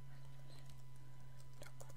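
Keys tapped on a computer keyboard as a router address is entered into a web browser, a few quick faint clicks near the end over a steady electrical hum.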